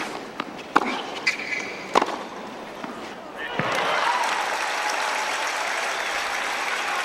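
Tennis crowd at a Federer match bursting into broad cheering and applause after a backhand drop shot, following a few scattered claps and court sounds, loud and sustained, with a commentator's voice over it.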